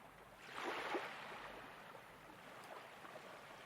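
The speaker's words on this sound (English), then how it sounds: "can you hear the waves? They roll in and out in a slow, sleepy rhythm" Ocean surf rolls softly in and out, a gentle hissing wash that swells early and then settles into a steady, fairly faint murmur with no voices.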